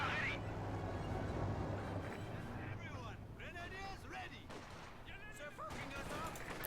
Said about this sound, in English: 222 here, taking shots at the MG42.